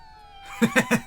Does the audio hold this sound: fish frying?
no